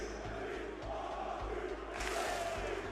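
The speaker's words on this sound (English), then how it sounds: "The crowd is absolutely pumping right now." A packed esports arena crowd at a Rocket League championship in Copperbox Arena roars and buzzes steadily, with a swelling surge of cheering toward the end and a low rhythmic thump beneath.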